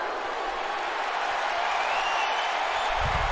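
A wrestling crowd at a live independent show cheers in a steady, broad roar that fills the whole stretch, with a low rumble swelling near the end.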